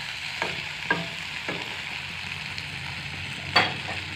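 Chicken pieces frying in a pan with coriander and chilli powder, a soft steady sizzle broken by a few scraping clicks as the mixture is stirred, close by with no talk.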